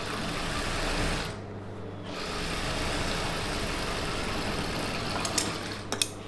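An Usha sewing machine runs an edge seam on a Patiala pant, giving a quiet, steady motor whir with a brief pause near the start and a few small clicks toward the end.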